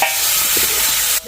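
Mustard seeds and coriander hit hot oil in a pan for kadhi, releasing a loud, steady, close sizzle and hiss that cuts off abruptly near the end.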